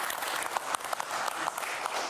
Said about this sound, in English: Applause for the gentleman.